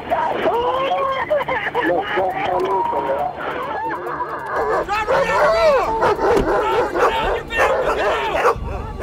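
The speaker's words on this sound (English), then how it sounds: "I heard the canine dog barking" A police canine barks repeatedly during a tense traffic stop, with yips and whimpers mixed among loud, overlapping voices of people talking and shouting throughout.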